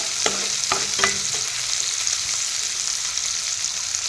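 Onions softening in a hot pan for a village-style Assamese fish curry, giving a steady broad sizzle throughout with a few brief clinks and stirring scrapes near the start, close and fairly loud, no talking.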